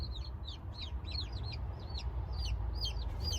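A hen settling over chicks slipped beneath her gives a run of soft, repeated clucks and chirpy calls at a steady rhythm, close and moderately loud over a low background rumble.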